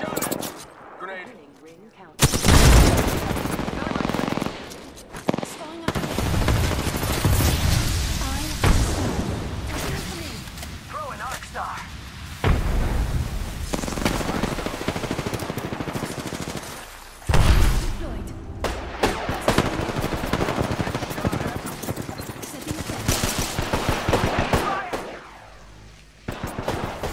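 Sustained automatic gunfire and rapid bursts from Apex Legends play loudly and almost without pause for close to half a minute, with a few short gaps and a voice speaking over the shooting.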